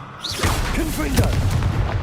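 A Confringo fire spell bursts in Hogwarts Legacy, a booming explosion with a roaring, rumbling tail that follows a short burst of game sound effects.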